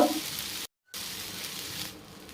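Green pea dosa batter cooks in a little oil and water on a pan with a steady, moderate sizzle, broken by a brief moment of silence and then resuming, with no voices.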